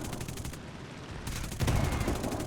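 Rapid machine-gun bursts from a P-47D Thunderbolt fighter in the War Thunder combat game, a dense rattling stream that drops out briefly and then returns heavier and louder, continuous with no pauses.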